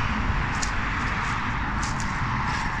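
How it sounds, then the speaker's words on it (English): Steady road traffic from a road beside a railway embankment, a continuous broadband roar with low rumble, constant and moderately loud with a few faint higher hisses from passing vehicles, no voices. "The noise you can hear is the road."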